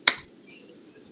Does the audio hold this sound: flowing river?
no